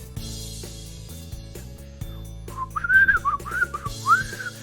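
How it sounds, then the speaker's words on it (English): A person whistles a wavering, bouncy tune in short phrases over a steady background of game music, the whistling loud and close in the second half. "I'm not good at whistling."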